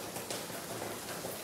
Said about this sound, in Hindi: तो इधर से देख सकते हैं कितनी बारिश हुई है